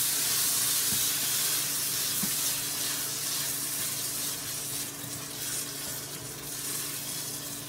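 Tikka masala sauce from a jar sizzles and hisses steadily in a hot wok, a loud continuous frying crackle throughout with faint stirring beneath.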